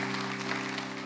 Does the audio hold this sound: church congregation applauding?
yes